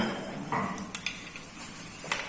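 A spoon stirs salt into a sauce for tray kebab, giving a few soft clinks and scrapes against the pan with quiet kitchen background.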